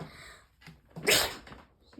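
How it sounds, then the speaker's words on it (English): A single sharp sneeze from a face-painting session, set off by puffed cosmetic glitter, bursts out loud and close in the middle, with quieter rustling before and after. "It always makes me sneeze."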